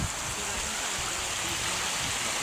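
Water of Jawili Falls, a mountain-fed waterfall and stream in Aklan, rushes in a steady, dense hiss that stays close and constant throughout, with no talking over it.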